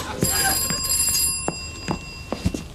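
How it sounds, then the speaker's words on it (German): A telephone rings in a domestic scene, a series of bright repeated bell-like trills spaced across a few seconds, fairly close and clear over a quiet room. "Entschuldige mich, Telefon."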